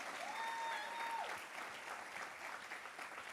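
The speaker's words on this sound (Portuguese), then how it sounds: "Você pode dar um aplauso ao Senhor pela vida dos líderes" A church congregation claps together in sustained applause for its leaders, a dense, even wash of hands throughout, with a brief whistle-like tone near the start.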